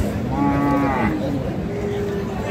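A bull moos at the Ambari cattle market, one drawn-out low call followed by a fainter second one, heard up close over a busy murmur of crowd noise.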